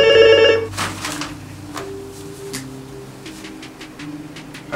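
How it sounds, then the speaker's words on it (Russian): Phone alert for an incoming message in a horror game set in an animatronic park, a short bright electronic chime at the start, then quieter tonal game sounds and faint clicks. "Опять сообщение от незнакомца."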